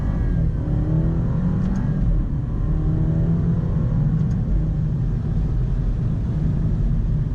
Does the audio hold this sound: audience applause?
no